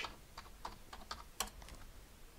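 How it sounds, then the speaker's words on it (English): A computer keyboard being typed on in a quick burst of separate clicks, close but faint, with one sharper keystroke near the end. "So let's type in NeoFetch."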